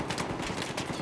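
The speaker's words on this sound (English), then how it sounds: "Stop shooting at me." Rapid video game gunfire, a dense, loud burst of automatic shots in quick succession throughout, with no talk.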